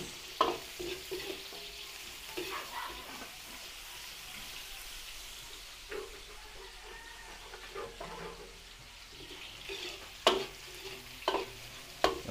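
Onion frying in a pan while being stirred for a Filipino home-cooked dish, a low continuous sizzle broken by repeated scraping and clinking of the spoon against the pan, some strokes louder than others.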